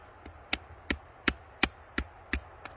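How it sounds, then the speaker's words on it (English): Garden stakes being tapped into the ground with a hammer: seven sharp, evenly spaced knocks in a steady rhythm, close and distinct, with no talking. "that's what I brought the hammer for. And we'll see if these things hammer in decently"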